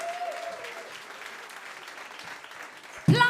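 Crowd applause at the final of the Plattsounds band contest 2023, a moderate wash of clapping and murmuring voices that fades somewhat, cut off by a sudden loud burst of noise at the very end.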